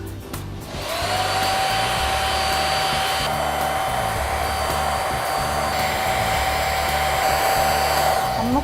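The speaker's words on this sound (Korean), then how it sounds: "먼저 드라이기로 뿌리 볼륨을 살립니다" A hair dryer blows steadily and loudly for several seconds while lifting volume at the hair roots in a hair salon, a constant whooshing roar with a high whine, starting after a brief moment of quiet.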